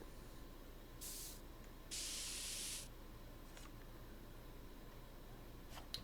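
A spray can in the Back to the Future video game hisses in two bursts, a short one followed by a longer steady spray, heard alone over a low ambient hum.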